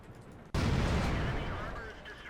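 Heavy impact blast of gunfire striking the side of a tank in the World of Tanks video game, an abrupt loud boom followed by a sustained rumbling roar.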